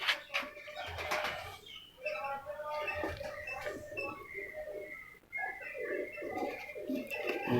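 Slate pigeon of a long-flying pipla breed cooing in soft repeated phrases, with faint rustling and background murmur, fairly quiet and close.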